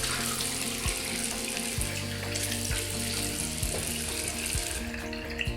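Cold water runs steadily from a bathroom sink tap during a safety-razor shave, with intermittent splashing and dripping as hands scoop it onto the face, close and fairly quiet, without any talk.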